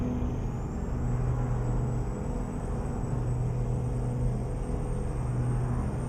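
A Kenworth road train engine drones in American Truck Simulator as it cruises an Australian highway, a constant low rumble with a faint high whine held evenly throughout.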